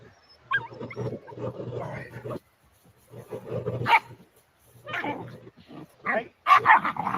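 Dogs bark in short, sharp bursts separated by pauses, loud and close, with people talking in between.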